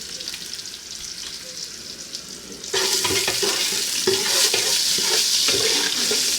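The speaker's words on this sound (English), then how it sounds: "You fry your onions until the thing gets brown" Onions sizzle in a hot pan, then a loud burst of frying crackle takes over as they are stirred, with scraping spatula sounds up close.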